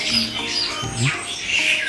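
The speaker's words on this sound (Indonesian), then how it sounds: "Ini jalak Suren sama jalak Bali." Javan pied starling and Bali myna chicks squawk in short, harsh, close calls that overlap and repeat across two seconds.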